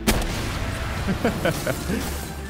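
Rocket launcher fire in the video game Palworld: a sharp launch blast opens the clip, followed by several lighter bursts and a steady low rumble of combat.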